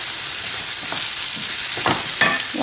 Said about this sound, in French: je les laisse dans ce mélange pendant 5 minutes, histoire qu'elles s'imprègnent de la sauce, en les mélangeant de temps à autre